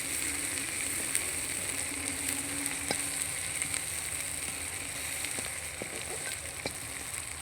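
Indian gooseberries frying over low heat in a pan for pickle give a steady, even sizzle with occasional faint clicks and pops throughout.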